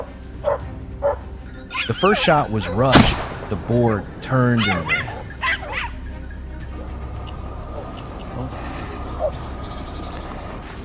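Hunting dogs bark and yip excitedly while chasing a wild boar through bushes, the yelps coming in quick bursts before fading. Someone narrates over the barking.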